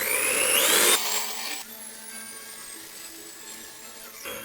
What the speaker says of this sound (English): I should just put this in here and start whisking until peaks form and it is sticky and taffy-like